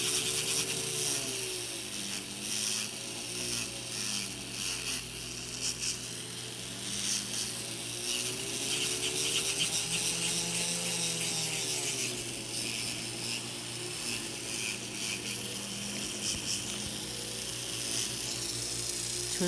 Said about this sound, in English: Your drill should be lean sideways, and then roll your drill over